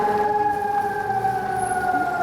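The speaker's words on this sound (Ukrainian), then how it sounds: "Увага! Оголошено повітряну тривогу." A loud, sustained wailing air raid siren in Kharkiv holds a steady tone, slowly falling in pitch, with no voices over it.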